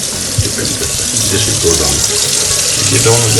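Water is poured over a pressure cooker just taken off the stove after cooking qorma, a continuous splashing, gurgling stream close by with a few clanks and a voice briefly audible beneath it.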